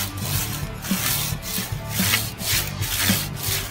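A razor tooth folding camping saw with a hard chrome-coated blade cuts through wood in steady back-and-forth strokes, each rasping pass close and distinct, with no talking.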